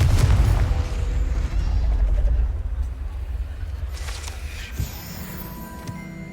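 Confringo fire spell explosion in Hogwarts Legacy: a heavy booming blast opening loud and rumbling, decaying over several seconds, followed by smaller bursts and crackling debris.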